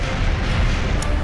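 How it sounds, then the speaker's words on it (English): A dense, continuous explosive roar from the Kerbal Space Program video game, with a brief sharp burst near the end and no voices. "We got explosions and stuff."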